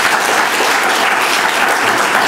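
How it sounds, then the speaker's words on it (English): A crowd at a 2013 school orientation session gives a round of applause. The clapping is loud, full and continuous, with no break for its whole short length. "can we give them a round of applause?"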